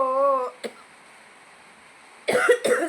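A single sharp cough, then quiet, followed by two harsh coughs in quick succession, close and loud; a sustained tonal sound opens the clip.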